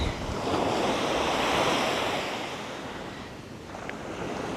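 Surf washes continuously onto the beach at Guilderton, where the river meets the sea, a loud steady roar of waves mixed with gusting wind on the microphone.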